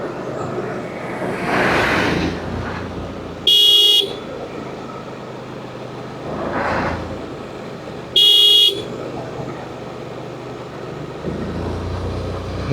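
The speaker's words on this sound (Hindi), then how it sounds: "मोड़ पे हॉर्न दो," A scooter horn honks twice in short bursts at a hairpin bend on a mountain road, with engine and road noise running underneath throughout the ride.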